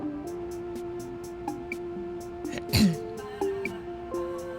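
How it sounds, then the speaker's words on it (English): One short throat clearing in the video game Dreamfall: The Longest Journey, fairly faint, over a quiet background hum with soft ticking. "Just clearing my throat."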